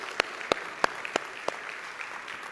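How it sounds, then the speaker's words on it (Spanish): A church congregation at a Spanish-language sermon claps: a few sharp, separate claps ring out at an uneven pace, then thin into quieter scattered ones. "Dale un fuerte aplauso a Él. Este aplauso es para ti, Señor."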